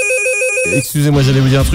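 A red emergency telephone rings in a radio studio, a bright repeating electronic ringtone heard loudly before a voice cuts in and speaks over the last part of the ring.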